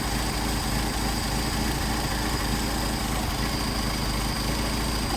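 A Mercedes 190SL engine fitted with Solex 44PHH carburetors idles steadily nearby at around 750 rpm, an even, unbroken low mechanical hum with no talk.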